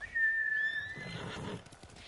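A horse whinnies with a high, wavering call in a video game, Ghost of Tsushima, followed by a short stretch of shuffling, thudding movement. No talking.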